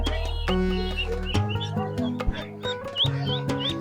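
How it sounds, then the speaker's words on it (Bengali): Young ducklings give thin, high chirps at a Sherpur village market in Bangladesh, with a few scattered peeps heard faintly over low market hubbub and background murmur. "এখানে কিছু হাঁসের বাচ্চা আছে"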